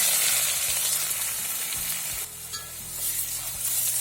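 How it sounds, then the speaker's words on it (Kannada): Onions fry in coconut oil in a wide iron pan for pav bhaji, a steady close sizzle with repeated scraping stirs and no talk. "ಈರುಳ್ಳಿ ಹಾಕ್ತಿದ್ದೀನಿ."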